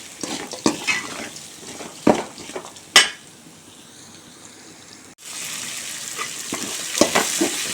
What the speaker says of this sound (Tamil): இப்போ சின்ன வெங்காயம் பூண்டு தக்காளி எல்லாத்தையும் போட்டு நல்லா வதக்குவோம்